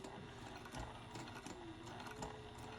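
A sewing machine back stitches along a zipper on a lined box bottom pouch, running in a steady close whir with short pauses and direction changes, no talking.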